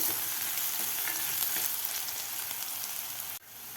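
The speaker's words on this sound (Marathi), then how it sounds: "कांदा आपल्याला थोडासा गुलाबी कलर होईपर्यंत आपल्याला परतून घ्यायचा आहे" Onion sautés in a hot pan for potato rassa, a close, steady frying sizzle with light stirring scrapes, continuous until it drops off sharply just before the end.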